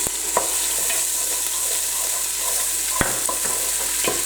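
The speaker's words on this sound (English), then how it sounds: "we're going to give that a good stir. It's going to make a right sizzling noise" Turmeric, ground ginger and garlic sizzle steadily in hot oil while being stirred for a chicken dhansak curry, a dense continuous frying hiss with a few sharp clicks of the spoon against the pan.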